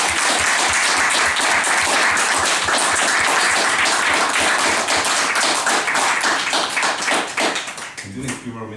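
An audience at an end-of-year president's speech gives Nadim a loud, dense round of applause that holds steady for several seconds, then thins out and tapers off near the end.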